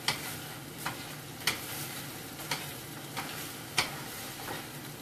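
Beef tips and green beans sizzle steadily in a pan on high heat, a constant hiss broken by occasional sharp clicks as a utensil stirs and scrapes, with no talking.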